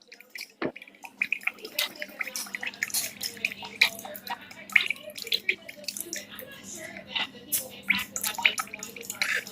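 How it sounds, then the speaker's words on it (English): Coconut water spills and drips in a reptile room, a run of small irregular splashes and drips close by over a low background, with faint voices now and then. "No, you spilled the coconut blood, Andrew."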